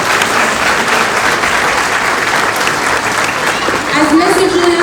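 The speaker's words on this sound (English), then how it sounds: "Please join me in giving a warm round of applause to Mr. Hill." Sustained audience applause welcoming a member of parliament to speak at a community federation meeting, loud and steady throughout, with a few cheers rising near the end.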